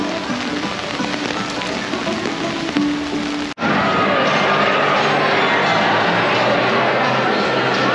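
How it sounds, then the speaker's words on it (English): Rain falls steadily on a surface outdoors in Grapevine, Texas, making a dense, even hiss. A brief dropout interrupts it midway, and the downpour then continues unbroken. "That's just part of the rain."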